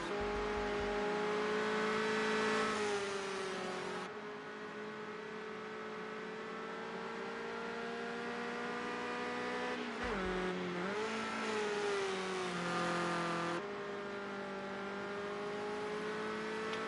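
Race cars in Project Cars 2 drive continuously with loud, sustained engine drone and harmonic revving, pitch rising and dipping through gear shifts and corners, with brief lifts around the middle.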